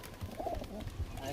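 Pigeons cooing in a loft of Teddy and Kaldum fancy pigeons, soft low coos at a distance under a dense background of room noise and faint voices.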